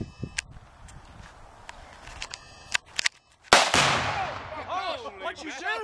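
A rifle shot strikes a Tannerite target outdoors, setting off a sharp, loud detonation followed by a long rolling boom that echoes across open ground, after a few quieter clicks and handling noises.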